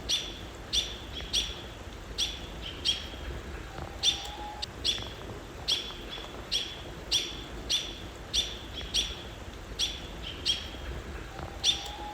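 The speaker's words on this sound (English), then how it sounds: "You hear the robins alerting." Robins give sharp, repeated alarm calls at a steady pace, about a dozen over several seconds, against a quiet forest background with a faint distant whistle.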